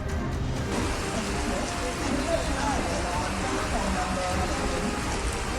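Heavy rain falls in the streets of Mumbai, a steady, loud, dense wash of rainfall that holds at the same level throughout with no pauses.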